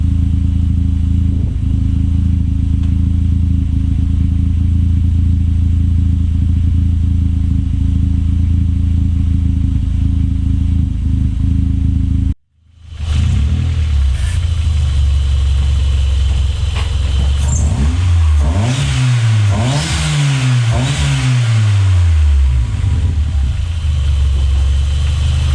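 A Toyota Starlet with a turbocharged 4E-FE engine runs while warming up, a loud steady idle that cuts out briefly, then returns with revs rising and falling in repeated swells.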